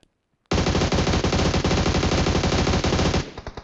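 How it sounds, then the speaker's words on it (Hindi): Rapid automatic gunfire in the BGMI battle royale game, a loud, dense burst of shots lasting about three seconds after a brief silence, then tapering into a few scattered trailing pops. "सामने से भी कुछ फायरिंग का साउंड है"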